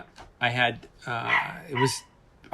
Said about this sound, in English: wait, my dog is barking